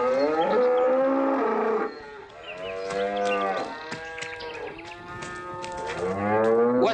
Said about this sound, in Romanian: De ce fug vacile astea, Checiule?